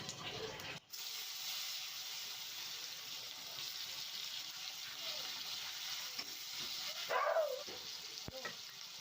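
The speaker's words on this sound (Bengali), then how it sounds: "পেঁয়াজটা হালকা ভাজা হয়ে গেছে" Onion frying in oil with dried red chillies and five-spice, a steady close hiss and sizzle throughout, with a couple of brief scraping stirs near the end.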